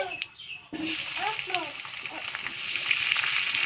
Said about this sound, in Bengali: পেঁয়াজটা একটু ভালো করে ভাজা ভাজা করে নেব